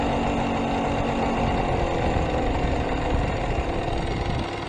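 A Wombat motorbike engine idling fast in neutral, a steady, continuous close-up rumble with a fine rapid pulse that holds level throughout.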